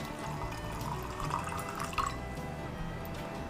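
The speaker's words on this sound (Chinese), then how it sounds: "往里面倒上整整1壶的茶" A full pot of cooled jasmine tea pouring into a pitcher for kumquat lemon tea, with a steady close splashing stream and light gurgles, alone without talk.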